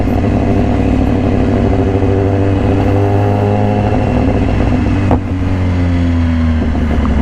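A 2018 BMW S1000RR fitted with an Austin Racing exhaust, heard while riding: a loud, close engine holds a steady drone with rising and falling harmonics, and a sharp blip near the end, with no talking.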